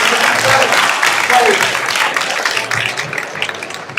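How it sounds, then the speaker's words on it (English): Applause from an audience at an engineering robot competition, a broad continuous patter that carries on under a voice talking over it throughout. "Big hand of applause."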